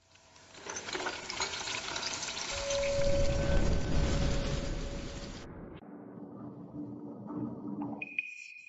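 Liquid soup being poured from a container down a drain, a loud continuous splashing pour that builds to a heavy gush, then quieter trickling and clattering near the end.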